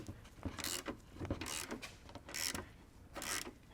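A hex cap screw is tightened into a rib nut while a Panzer skid plate goes onto an MK5/MK6 car. About five or six evenly spaced bursts of ratcheting mechanical clicks are heard up close, with no talk.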